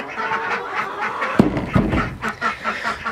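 Several ducks quack and chatter nearby in an irregular series of short, raspy calls, with a couple of sharper splashy knocks in between.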